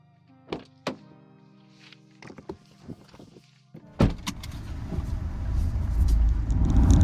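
A 2025 Mazda MX-5 Miata RF Club with a six-speed manual: a few sharp door and cabin thunks and clicks come first, then engine and road noise swell and build steadily as the roadster pulls away.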